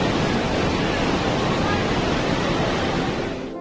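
A waterfall drops about 300 feet near a Shiva statue at Jatashankar Dham in Chhatarpur, a dense, unbroken roar of rushing water that holds steady and fades slightly at the end.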